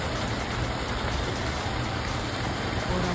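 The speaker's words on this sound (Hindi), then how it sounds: "और अब धीरे धीरे बारिश है वो तेज हो रही है" Rain pouring down onto roads in Sanchore district after polling day, a dense, steady broadband hiss that fills the scene continuously with no talking.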